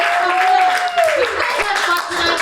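A comedy club audience claps and cheers in a steady, dense wash of applause, with a raised voice sliding over the noise near the start.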